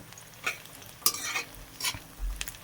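Onions frying in oil in a pan with a soft steady sizzle, broken by a few sharp stirring scrapes of a utensil, close and fairly quiet with no voices.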